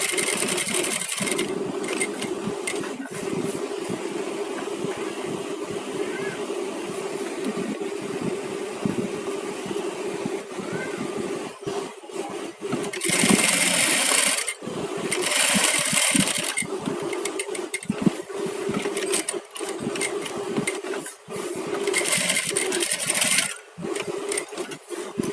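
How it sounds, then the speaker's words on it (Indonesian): Sewing machine stitching a patch pocket onto a garment, a steady whirring hum running throughout with louder, faster bursts of stitching partway through and near the end. "Jadi menjahit saku tempel pun ada tekniknya."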